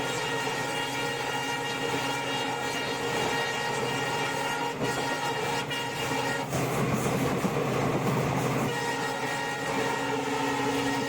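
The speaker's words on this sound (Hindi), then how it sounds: "देखिए साइड में ट्रैक के आपको बहुत तेज़ रफ्तार से ट्रेन निकल रही है" A train speeds past on the track near Aliganj station on the Moradabad–Kashipur line, a loud, continuous rumbling roar with steady tonal hum throughout, close by and alone.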